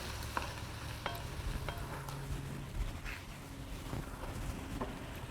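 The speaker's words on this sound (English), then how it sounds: "Give that a good stir." Mirepoix and garlic cooking in butter in a pot are stirred, giving a steady soft sizzle with scattered scraping and clinking from the utensil against the pot.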